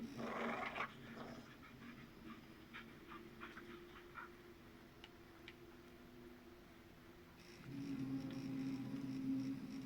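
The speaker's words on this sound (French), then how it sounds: "Ta gueule le chien, désolé, mais chute." A dog growls and barks faintly in the background with some panting, alongside light ticking clicks and a low steady hum.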